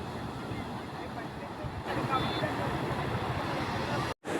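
Ocean surf at Uppada beach in Kakinada gives a steady, loud, broad wash of waves that carries on throughout, with faint crowd babble mixed in and a brief dropout near the end.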